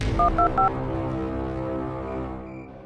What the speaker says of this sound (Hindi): मैं उसको अभी फोन लगा के यहाँ पे बुलाता हूँ।